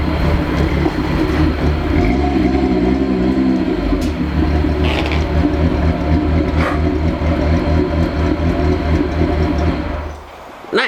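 A VR6 engine on its first drive runs with a steady, loud, deep rumble and an uneven loping pulse, close to the microphone, before the sound briefly dips near the end.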